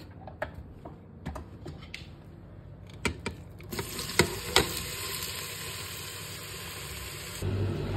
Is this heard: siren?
no